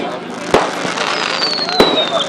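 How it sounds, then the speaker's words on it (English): Small fireworks at a bonfire night display pop and crackle outdoors, with two sharp bangs and a whistling rocket streaking past, as people chat in the background. "Not bad for free fireworks."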